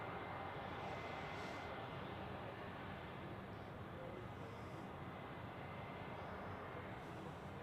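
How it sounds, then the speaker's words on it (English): A Lufthansa Airbus A320 arriving from Frankfurt at Zurich Airport, a steady distant jet roar that holds evenly throughout beneath crosswind noise, with no voices. "In the background, you'll see a Lufthansa A320 inbound from Frankfurt."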